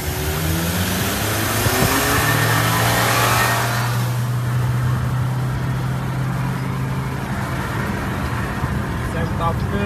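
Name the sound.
Hyundai Santa Fe accelerating in a race against Toyota CHR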